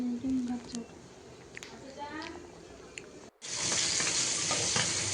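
Fish frying in a home kitchen pan, with a loud, steady sizzle that starts suddenly in the second half, after a stretch of quieter background noise and faint clatter.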